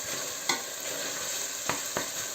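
Chopped onion frying in a pan over moderately low heat, a steady close sizzle broken by a few sharp scraping strokes as it is stirred, no voices.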